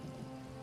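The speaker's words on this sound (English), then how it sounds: "I could do without this damnable rain. It's been storming since we arrived, and it shows no sign of letting up." Steady rain from a storm in Elder Scrolls Online, a dense, even hiss of drops falling on surfaces with a low rumble underneath, continuous over a brief moment with no voices.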